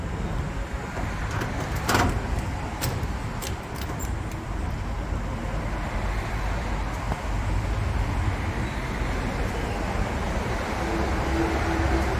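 A deep, steady rumble of a train stopped at a road crossing drones on continuously, with faint clanks and traffic noise in the background.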